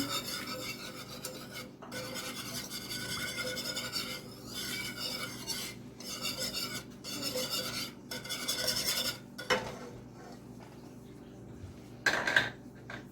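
Black salt, nutritional yeast and turmeric are stirred together in a bowl, producing repeated close rasping scrapes of a utensil against the bowl in uneven bursts, with a brief clink near the end.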